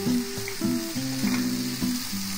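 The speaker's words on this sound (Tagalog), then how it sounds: "antayin natin maging kunti brown ang ating chicken." Chicken wings fry in a pan, browning before the other ingredients go in. A steady, close sizzle hisses throughout beneath a tonal melody.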